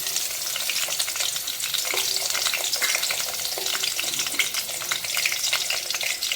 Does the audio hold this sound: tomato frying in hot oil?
yes